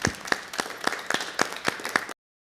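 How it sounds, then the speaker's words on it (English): A small group applauds at the close of a church presbytery meeting, a few distinct hands clapping in a loose, uneven rhythm for about two seconds before cutting off abruptly. "We'll give you a clap, a round of applause."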